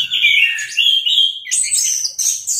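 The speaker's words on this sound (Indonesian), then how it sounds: "burung kayak MP3, Bos. Pagi, siang, sore, malam, subuh. Bunyi terus." Orange-headed thrush birds singing close by in clear, loud, varied whistled phrases, with one bird starting and another answering in quick bursts.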